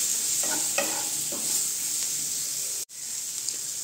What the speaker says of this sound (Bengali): দিয়ে আলুটাকে আমি একটু হালকা করে ভেজে নেব